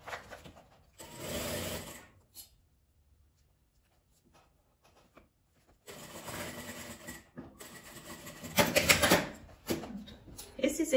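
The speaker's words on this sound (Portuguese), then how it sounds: "No lugar que eu vou costurar daqui pra cá." Sewing machine stitching clear crystal plastic for a transparent cosmetic pouch, running in close whirring bursts of about one second, then a longer run of about five seconds after a quiet pause.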